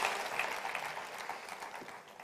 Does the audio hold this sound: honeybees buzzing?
no